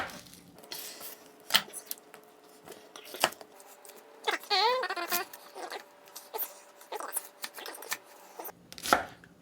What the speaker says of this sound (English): I will try and chop this as finely as possible, especially because shallots are so strong